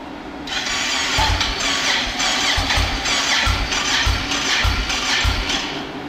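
A turbocharged Honda Talon engine is cranked and runs roughly. Rhythmic, chugging, uneven pulses sit over a loud, steady mechanical hum close by.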